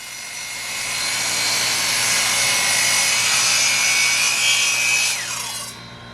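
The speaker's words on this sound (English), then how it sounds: "Cuts like this are exactly why I upgraded my miter saw to a sliding model like this one." A sliding miter saw cuts through timber panels for shiplap: a loud, close, sustained whining buzz of the blade biting wood, ending with the motor spinning down.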